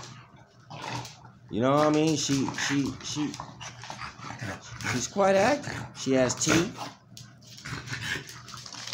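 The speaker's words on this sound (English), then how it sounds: "this little aggressive little dog right here" A small, aggressive dog whimpers and yips close by in a few bursts of high, wavering cries, mixed with panting, while a person talks over and between the sounds.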